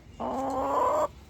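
A large, heavy hen held in someone's arms gives one sustained, nasal clucking call lasting about a second, close and fairly loud, with quiet garden surroundings before and after.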